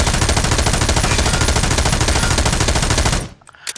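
M249 machine gun in the video game Ghost Recon firing one long, loud, unbroken burst of rapid shots that stops abruptly near the end, with no talk over it.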